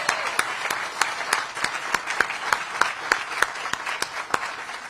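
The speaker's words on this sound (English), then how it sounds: "So let's give a round of applause for those awardees." A modest audience at a small-business awards ceremony claps for the awardees, light scattered applause with distinct individual hand claps standing out in a loose rhythm.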